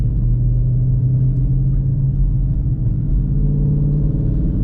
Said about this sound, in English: I love breaking necks in this car with the exhaust.